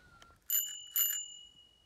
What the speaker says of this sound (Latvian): Zvaniņš strādā.